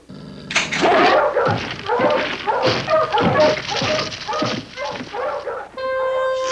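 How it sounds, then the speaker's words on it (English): Several dogs bark continuously in overlapping rapid yaps, loud and close, with the barking steady and busy throughout. "More than one dog, and coming closer."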